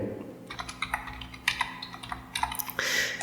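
Rapid, light keystrokes on a computer keyboard while text is typed into MS Word 2007, an uneven patter of close, soft clicks lasting a few seconds.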